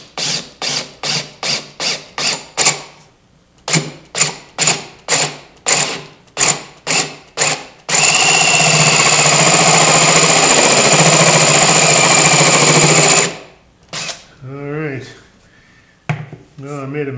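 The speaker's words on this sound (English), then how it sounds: "what I like to do is start by drilling a hole" A paddle bit drills a long hole down the center of a wooden cube on a workbench: rhythmic short bursts give way to about five seconds of loud continuous grinding, with a voice speaking around it.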